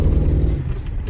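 A 1989 Chevy Caprice Brougham LS rumbles on a test drive, a loud, close, low engine note with a steady throb throughout a brief moment.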